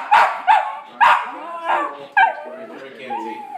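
A West Highland terrier barks at dogs on a television, giving several sharp high yips and barks in quick succession followed by whiny whimpering, close and loud, with no one talking.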